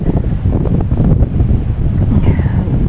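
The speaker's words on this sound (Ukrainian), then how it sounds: "Вітер сильний просто" Strong wind buffets the microphone in loud, rumbling gusts, roaring steadily with surges and dips, and no voices.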